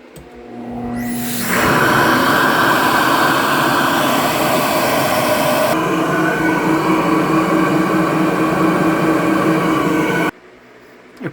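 A 318 V8 engine with a four-barrel carburetor on a two-barrel intake manifold runs on a dyno, rising quickly to a loud, steady roar that holds for about eight seconds before cutting back to idle.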